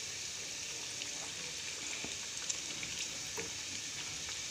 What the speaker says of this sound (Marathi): हे बघा असं व्यवस्थित लाल होईपर्यंत दोन्ही साईड आपल्याला तळून घ्यायच्या आहेत.